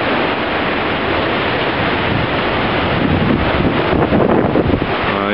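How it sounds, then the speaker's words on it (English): Strong wind from storm Hermine roars constantly into the microphone, a loud buffeting rush with surf-like noise that barely lets up, with no voices. "You can hear all that wind."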